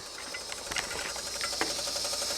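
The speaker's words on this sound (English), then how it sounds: "like a fuel pump running, something clicking in the electrical center" A GM truck with the key switched on and the engine off gives a steady electric whine like a fuel pump running, with a few faint relay clicks from the electrical center over a constant hiss.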